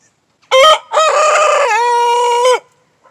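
A young rooster crows nearby, loud and alone: a short opening note, a brief gap, then one long strained cock-a-doodle-doo that holds for over a second before cutting off.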